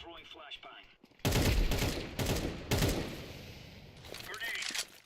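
Grenade and incendiary blasts go off in a video game, a sudden loud burst followed by rolling booms and crackling, mixed with game voices and radio chatter.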